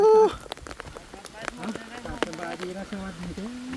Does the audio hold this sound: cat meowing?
no